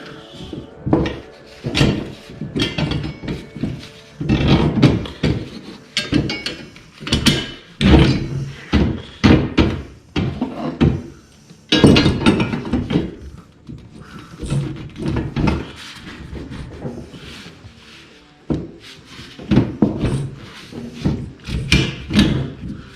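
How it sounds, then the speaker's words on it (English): OME Dakar leaf springs from a 2015 Tacoma being slid back together one by one, making repeated loud metallic clunks, knocks and scrapes in irregular bursts at close range, with no speech. "Slide them back together one by one."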